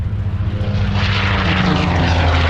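A SPAD propeller aircraft makes a low pass with its landing gear extended, a loud steady engine drone that swells slightly at close range, with no voices.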